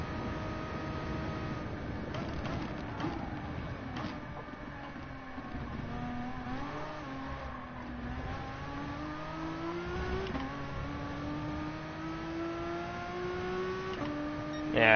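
A GP2 racing car engine screams continuously, its pitch climbing and dropping through gear changes as it revs, a loud steady whine recorded in thin, lo-fi quality.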